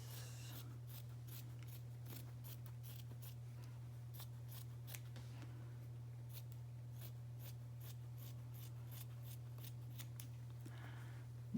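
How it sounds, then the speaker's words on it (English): Scissors cut across a t-shirt just under the sleeves while making t-shirt yarn, giving a steady run of crisp, close snips over a constant low hum, with no talking. "you're going to take your scissors and you're going to cut right under the sleeves all the way across the shirt"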